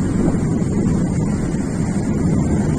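Strong Lodos wind blows in Turkey, a steady loud roar of gusts buffeting the microphone with no pauses and no voices.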